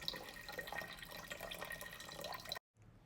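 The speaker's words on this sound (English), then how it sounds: "I'm pouring 2 kg of water at 25 degrees Celsius into the cooker" Water poured into a pressure cooker, 2 kg at 25 °C, runs as a steady splashing, trickling stream close by for about two and a half seconds, then cuts off abruptly into near silence.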